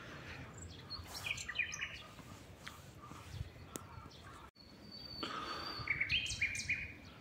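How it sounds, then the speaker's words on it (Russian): Small birds chirp and tweet outdoors on a cool day by the Azov Sea, bright scattered calls in short bursts over faint background noise, with a quiet gap midway before the chirping resumes. "Птички поют."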